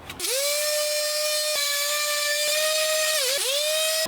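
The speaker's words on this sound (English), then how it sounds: "So we're now going to sand the two faces" A power tool sands fiberglass cold air feed parts, holding a loud, steady high-pitched whine that dips briefly a few times as the tool is pressed against the workpiece.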